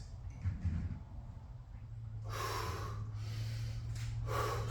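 Heavy breathing during a garage workout of push-ups and squats, with strong audible exhalations and gasps over a low steady hum, close and loud in the second half.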